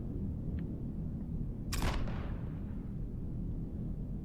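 A single heavy gun blast from the video game Heat Death Survival Train: one sharp, loud crack with a short tail, standing alone over a steady low background hum.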